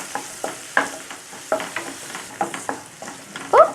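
Garlic and onion sautéing with turmeric and a pinch of asafoetida for a Chettinad garlic tamarind curry, with a low sizzle beneath a series of sharp spatula scrapes and taps on the pan, close and free of talk.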